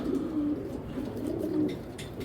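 A 2020 racing pigeon coos softly and steadily at close range, a low continuous murmur with a few faint higher chirps near the end, no voices.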